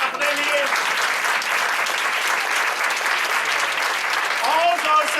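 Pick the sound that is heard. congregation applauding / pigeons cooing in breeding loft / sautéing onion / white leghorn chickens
congregation applauding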